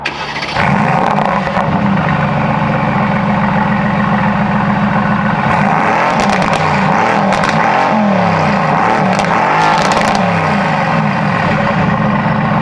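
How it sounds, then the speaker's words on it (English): A loud Mercedes-AMG GT S engine idles roughly, then revs up and down in several bursts, the rumble swelling and falling close by. "let's get some revs"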